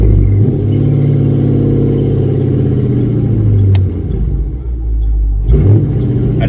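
A Dodge Charger R/T engine revs up in valet mode and holds a steady droning roar, dips briefly, then surges again with a second rev near the end.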